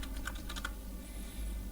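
Quiet, rapid tapping of keys on a computer keyboard while a captcha is typed in, a short cluster of clicks then a pause, heard alone against faint room hum.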